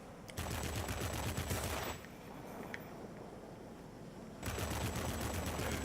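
Aircraft guns in a flight combat video game fire at an enemy plane in two long, rapid bursts of chattering gunfire, with a quieter stretch of engine drone between them and no voices.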